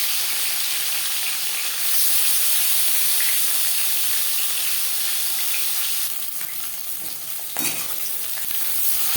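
Pieces of silver carp rubbed with salt and turmeric fry in hot refined oil, a continuous loud sizzle and crackle that swells briefly near the end as the fish is moved in the pan.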